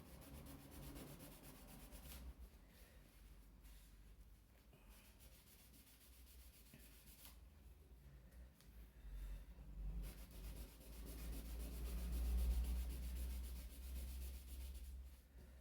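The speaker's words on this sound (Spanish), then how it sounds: "y le damos una nueva lijadita" A wooden craft piece being hand-sanded with fine sandpaper, steady soft rubbing strokes close by that run continuously, slightly louder toward the end, with no talking.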